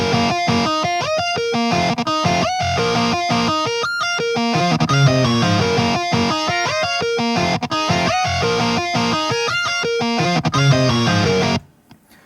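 A driving distorted electric guitar riff with fast, choppy rhythmic chugs and accents, loud and continuous before cutting off abruptly near the end.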